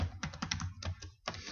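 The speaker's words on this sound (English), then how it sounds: "Type in your title, whatever it is that you want your text" Quick, close clatter of a computer keyboard during Movie Maker title editing, rapid key taps in several short bursts separated by brief pauses, with no talk.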